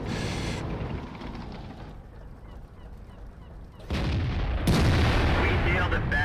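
Artillery shells striking in World of Tanks, heard while driving a T28 Prototype: two heavy booming blasts land over a rumbling engine bed, the second louder and nearer, with no voices over them.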